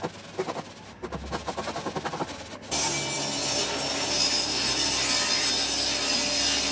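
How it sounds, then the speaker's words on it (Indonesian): Hand file rasping across wood while cutting parts for a minimalist TV backdrop partition: a few seconds of rhythmic back-and-forth strokes, then a louder, steady broadband scraping that continues to the end. "untuk pemotongannya saya pakai kikir aja"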